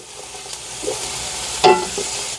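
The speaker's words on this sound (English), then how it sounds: "Okay, so we're cooking our suffrito in here." Soffritto for a bolognese arancini filling sizzles steadily in a pan close up, with a couple of light spoon scrapes and a sharper clink partway through.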